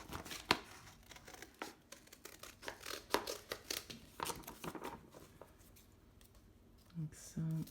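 Scissors snip through sheets of paper in a run of sharp, close cuts with light paper rustling between them, while a person talks quietly over the work.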